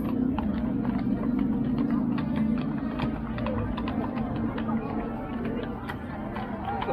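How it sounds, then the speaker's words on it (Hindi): Mounted police horses, including a black horse, move along a city road during a protest, their hooves making steady, soft clip-clopping under a constant background of traffic and crowd murmur. "घुड़सवार पुलिस जा रही है।"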